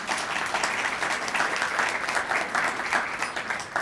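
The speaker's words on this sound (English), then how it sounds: "So let's give everybody a round of applause for" Audience applause at a community State of the Community presentation, steady clapping from a large crowd, moderately loud and continuous with no talk over it.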